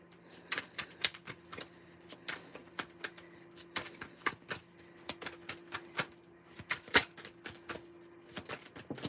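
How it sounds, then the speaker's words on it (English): Tarot cards are shuffled in a steady run of crisp, close riffling snaps and taps, with no talking. "I don't know why I even started shuffling."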